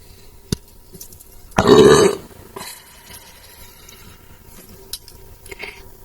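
One loud, drawn-out burp rises close to the mic and lasts about half a second, followed by quiet room sound and a few faint clicks.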